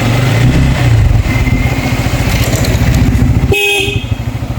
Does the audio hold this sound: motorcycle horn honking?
yes